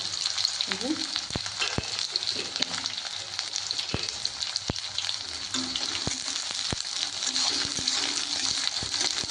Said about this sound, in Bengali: পেঁয়াজ আর কাঁচা লঙ্কাটা আমি দিয়ে দিলাম